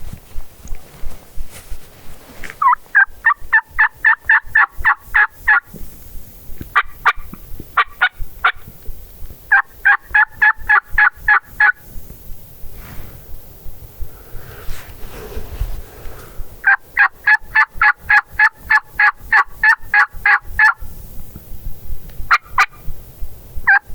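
A wild Merriam's turkey gobbles in the snow on Nebraska public land, several loud, rattling gobbles in separate bursts, moderately close, with footsteps crunching in between.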